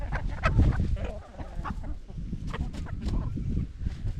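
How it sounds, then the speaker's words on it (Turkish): Roosters and a flock of about fifteen hens on a snowy, windy village farm cluck and squawk in a busy, close chorus with overlapping calls throughout. "şu iki horoz da yeni aldım"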